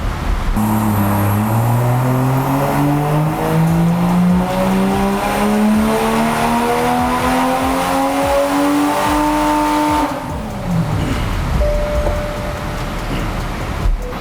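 A loud Toyota A90 Supra engine with an AEM intake revs upward in one long sustained pull on a dyno, then drops off abruptly and winds down.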